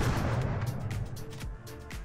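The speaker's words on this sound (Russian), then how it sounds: "Давайте постреляем." A double barrel shotgun fires in the video game Rust, loud booming blasts with quick echoing tails, one after another at close range.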